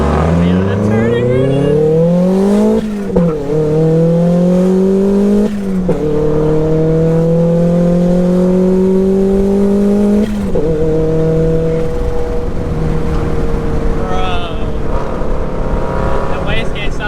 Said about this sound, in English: The wastegate sounds so cool.